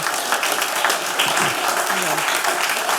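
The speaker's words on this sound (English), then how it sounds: "just hold back on the clapping for the public hearing" An audience claps in a city planning commission meeting room during a public hearing, dense steady applause filling the room, with a few voices faintly underneath.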